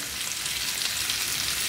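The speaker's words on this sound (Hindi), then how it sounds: "1 से 2 मिनट अच्छी तरह से हम हल्दी में आलूओं को फ्राई कर लेंगे।" Potatoes frying with turmeric and salt over a medium flame: a dense, even, close sizzle that holds steady throughout, with no voices.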